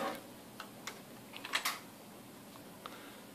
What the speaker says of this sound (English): Get my keyboard out.